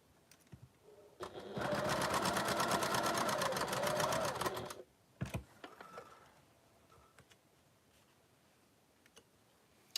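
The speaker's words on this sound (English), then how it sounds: "I'm going to sew from about there to the end over there" A sewing machine runs a partial seam along a quilting fabric edge in one steady burst of rapid stitching lasting about three and a half seconds. Scattered handling clicks and rustles follow in a quiet room.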